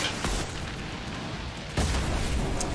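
Two booming blasts from the video game Fortnite, played on PC at epic graphics settings, each burst standing out over a steady background bed, the second louder and longer.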